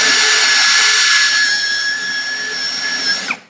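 A Lucid LX-60 cordless drill bores a 10 mm hole under pressure, giving a loud, continuous high whine that eases slightly before cutting off abruptly.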